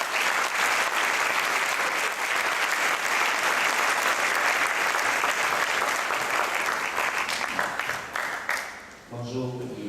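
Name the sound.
audience applause welcoming student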